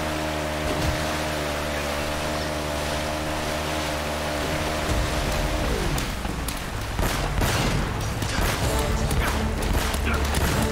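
Gunfire in Uncharted: Drake's Fortune, rapid crackling shots over a steady droning engine hum and rushing water, with the hum dropping away midway as the firing continues.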